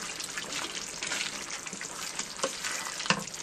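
Ground meat mixture for Greek pastitsio sizzles steadily in a pan on the stove, a dense frying hiss with occasional stirring scrapes and a couple of sharper pops, no talking.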